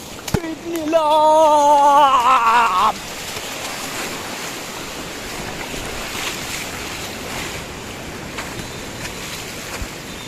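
Wind and surf roar steadily at Cox's Bazar sea beach in the rain, after a brief, loud tonal sound at the start.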